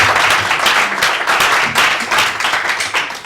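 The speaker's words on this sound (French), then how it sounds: "on peut l'applaudir quand même" A studio audience on a television magazine show claps for an arriving guest, loud and close, a dense, lively burst of many hands with a steady rhythm throughout.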